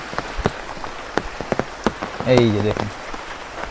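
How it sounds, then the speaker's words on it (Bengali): Rain falls outdoors on a farmyard beside a cattle shed, with scattered drops ticking and tapping on nearby surfaces while someone speaks briefly. "শুধুমাত্র বৃষ্টি হচ্ছে"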